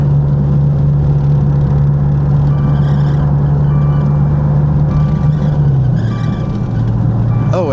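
A submerged, water-damaged Maserati accelerates on the road at highway speed. Its steady engine drone rises until the note drops with a gear change near the end, and it runs continuously with no speech.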